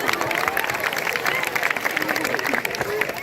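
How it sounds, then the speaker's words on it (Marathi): An audience clapping during a village play on an addiction-free village theme, steady applause with crowd murmur and some voices mixed in, moderately loud throughout. "टाळ्या वाजवा टाळ्या वाजवा"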